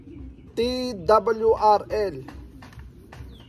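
A red bar racing pigeon entered in a one-loft race coos in a short warbling call close by, while someone talks in the background.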